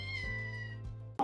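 A kitten gives a single drawn-out meow with a rising, wavering pitch, close and clear against a quiet background, ending in a brief soft bump.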